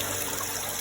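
Steady bubbling and trickling of water from aeration in a catfish fry tank at a hatchery, a continuous close wash of bubbles and running water with no talk.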